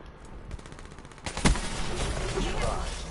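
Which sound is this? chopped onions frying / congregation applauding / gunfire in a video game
gunfire in a video game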